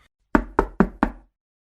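Four quick, sharp knocks on a door, evenly spaced and loud, close by with silence around them.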